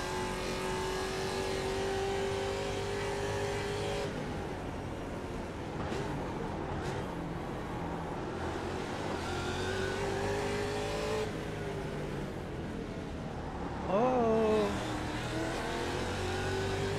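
American muscle race cars battle in a sim racing game, engines roaring and revving through gear changes as a rival sits close behind, with a brief tire squeal near the end and no talk over it.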